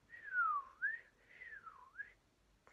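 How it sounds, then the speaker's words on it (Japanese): A quiet whistled tune, with smooth notes sliding down and back up in two short phrases. "口笛吹けてんな。 吹けてるでしょ。"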